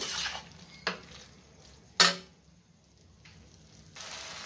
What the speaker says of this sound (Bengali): এটা ভালো করে নাড়াচাড়া করে এরপর আমি দেবো জল